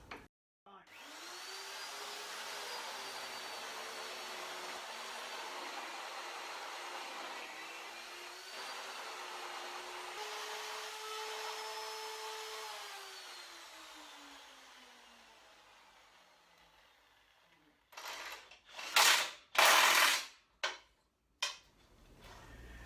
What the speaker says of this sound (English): I've got the second hole drilled.